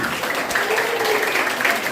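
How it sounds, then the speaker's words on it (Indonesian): Dense, continuous clapping from an audience of mothers at a junior high school session on bullying and harassment prevention, loud, steady applause filling the whole moment with a faint murmur of voices beneath. "Tepuk tangan dong ibu-ibunya anak."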